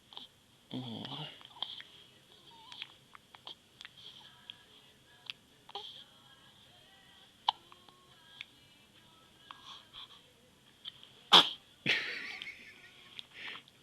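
A baby gives a single abrupt sneeze near the end, a sharp broadband burst, close and clear, among soft small noises and faint breathing.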